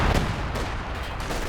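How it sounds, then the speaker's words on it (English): Artillery shells and gunfire pound continuously in a Company of Heroes 2 match, a dense, loud barrage of overlapping blasts and booms with no pauses and no voices. "Drops down some artillery from the P4."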